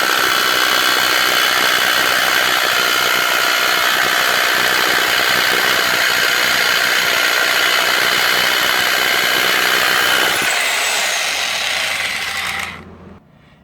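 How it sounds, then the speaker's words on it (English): A Bauer 1-inch SDS D-handle rotary hammer fitted with a 5/8 Hilti bit drills with a loud, continuous hammering whine for about ten seconds. The pitch then shifts and the noise winds down to silence. "Here's the Bauer with the 5/8 Hilti bit."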